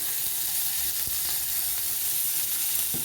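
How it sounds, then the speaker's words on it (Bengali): Onion sizzling in hot oil in a pan while cooking katla fish kalia, a continuous bright crackle with a few faint clinks, no voices. "এবারে আমি ওই তেলের মধ্যে দিয়ে দেবো কিছুটা পেঁয়াজ।"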